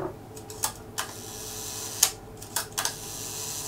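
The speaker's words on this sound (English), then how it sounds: "And there it goes, the shutter's working at full speed." The leaf shutter of a Ricohflex TLR camera, its escapement freshly lubricated, fires repeatedly at full speed, giving crisp close mechanical clicks in an uneven series over a faint background hiss.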